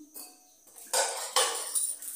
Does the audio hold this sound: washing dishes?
yes